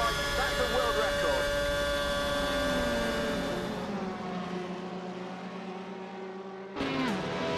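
A McLaren MP4-22 mid-2000s Formula One car screams around the Suzuka track in Assetto Corsa, a high, steady, loud onboard engine whine that drops away and then returns, with someone talking over it.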